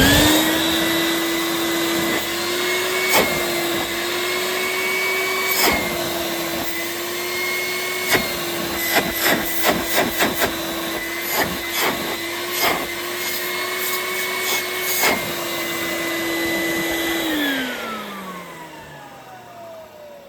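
A 1988 Numatic CT375 vacuum cleaner runs with a steady, close motor whine and rushing airflow, punctuated by repeated knocking clicks and bumps, then winds down with a falling pitch near the end.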